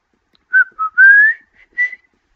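A person whistles a short tune of about four bright, sliding notes with brief gaps between them. The whistling is close and clear against a silent background.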